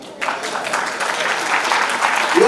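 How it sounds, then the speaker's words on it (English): Audience applause at a youth business awards ceremony in KwaZulu-Natal, a dense steady clatter of many hands that starts abruptly and carries on loud and close throughout. "Clap for Mr."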